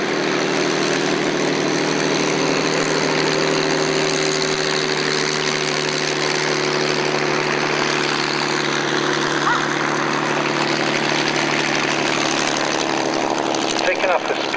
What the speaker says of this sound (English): a formation takeoff by Spitfires, and one lonely Messerschmitt, the Villain, flown by Air Vice Marshal Herr